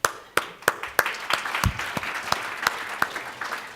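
An audience at a network operators' conference closing plenary claps in sharp, spaced individual claps that gradually thin out and soften.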